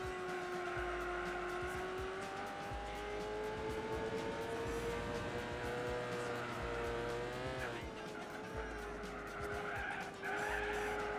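V10 race car engine in Gran Turismo 4, a sustained high-pitched droning whine holding pitch with small shifts, overlaid by continuous tire squeal and skidding, close and steady.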